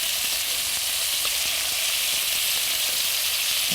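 Portavogie clams frying in butter in a hot pan give a steady, bright, close sizzle, an even hiss with faint crackles and no talk.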